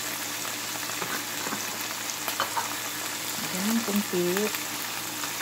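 Ham frying in a pan gives a steady moderate sizzle, with stirring noises and a person talking over it briefly near the end.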